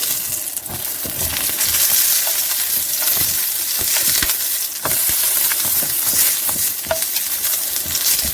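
Meat sausage browns in a pan with a dense, continuous sizzle and occasional stirring scrapes, loud and close, with no one speaking.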